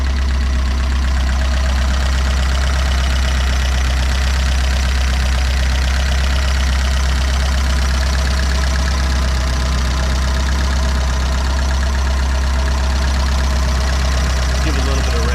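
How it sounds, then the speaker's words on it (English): A 1978 Fiat 124 Spider engine idles steadily after sitting several days and being cold-started, a close, loud continuous hum with a faint rhythmic ticking throughout and no change in pace. "Not bad for a couple day cold start."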